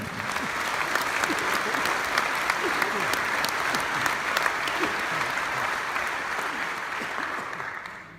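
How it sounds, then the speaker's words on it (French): A gala audience at a French federation opening event gives a sustained, thunderous round of applause, dense clapping filling the room steadily for about eight seconds before tapering off at the end. "un tonnerre d'applaudissements pour Fernand"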